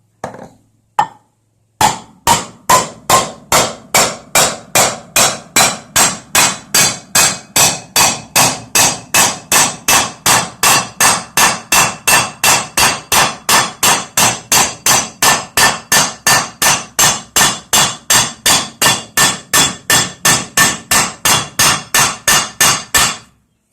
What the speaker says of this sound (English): I've essentially focused all my hammer work right in the center circle